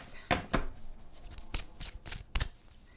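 Tarot cards being shuffled by hand, a series of sharp riffling bursts and soft slaps in an irregular rhythm, close and clear, with quiet talk mixed in.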